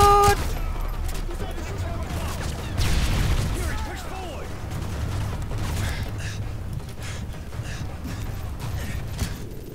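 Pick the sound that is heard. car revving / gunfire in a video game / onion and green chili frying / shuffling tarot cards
gunfire in a video game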